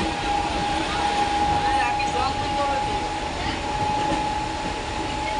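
Inside a moving passenger train, a steady rumbling roar of wheels and carriage runs throughout, with a thin sustained whine riding on top and no clear break in the noise.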